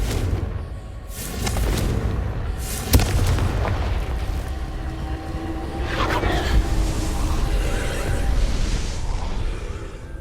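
Booming spell explosions in the Hogwarts Legacy video game, a sharp blast near the three-second mark followed by rumbling bursts and crackling magical effects over ongoing game noise.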